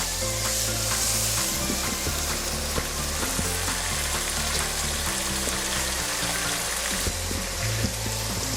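Minced meat keema sizzling steadily in a pan with chopped capsicum, a loud continuous fry punctuated by the scrape and clatter of stirring.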